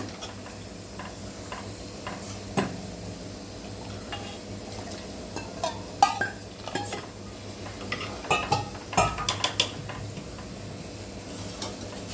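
A pot of sambar simmers on the stove with quiet bubbling and irregular soft pops and ticks, close by, plus an occasional clink of cookware.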